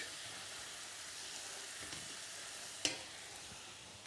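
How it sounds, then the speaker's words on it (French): Sizzling pan being deglazed, with lamb juices and vegetable pieces frying, a constant bright hiss with one sharp crackle near the end, close and steady with no talking. "Là, on va déglacer."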